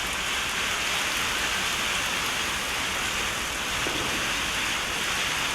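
A storm drives heavy rain and wind, producing a dense, loud, constant hiss of rain hammering surfaces that fills the whole stretch without letup.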